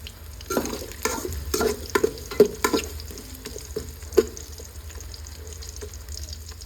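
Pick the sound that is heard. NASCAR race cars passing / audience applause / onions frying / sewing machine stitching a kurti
onions frying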